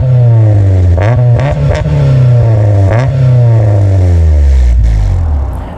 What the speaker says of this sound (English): let's take a listen to this exhaust that has been modified